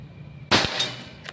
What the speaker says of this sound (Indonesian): Tembakan pertama ini yang 12 grain ya